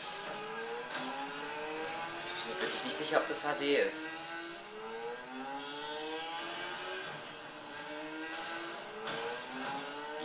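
A motorcycle engine in the video game Saints Row The Third whines and revs in rising sweeps, with a brief burst of clatter midway, under someone speaking German.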